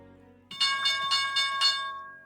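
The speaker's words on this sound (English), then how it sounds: "Opening bell." A stock market opening bell rings out in a rapid series of about five bright, metallic strikes, loud and close, with no talk over it.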